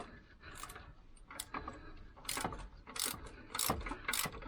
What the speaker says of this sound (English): my standard 1/2-inch drive socket set